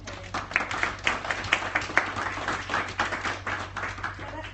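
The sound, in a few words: audience applause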